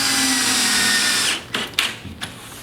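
A power drill drives long screws into a pre-drilled, countersunk pantry cabinet frame. It runs as one steady whirring burst, then stops and leaves a few short knocks and clicks.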